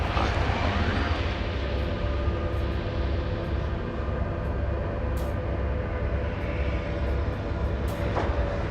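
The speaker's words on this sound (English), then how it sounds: "And engine's all the way up." A spaceship engine in the Star Citizen video game runs as a steady, loud, dense rumble with a deep low drone, holding constant throughout with faint clicks on top.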